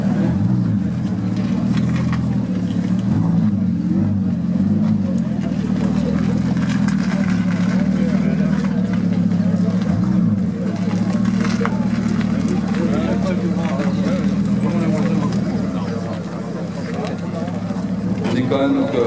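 KTM X-Bow GT-XR sports car engine rumbling low and steady while it maneuvers slowly, with people talking over the idle throughout.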